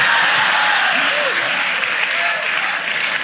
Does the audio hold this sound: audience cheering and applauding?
yes